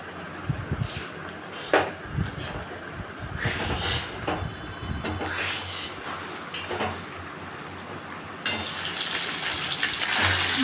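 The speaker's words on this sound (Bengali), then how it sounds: "মাছ রান্না করবো মাছগুলো ভেজে নিচ্ছি" Fish frying in a pan, a crackling sizzle with irregular spits and pops over a low steady hum, moderately close, with scattered clinks and no talking.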